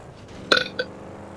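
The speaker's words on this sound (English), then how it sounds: "God damn it, I love burping." A single loud, close burp from a man, a short guttural belch followed by a smaller second gulp, with quiet room tone around it and no talk.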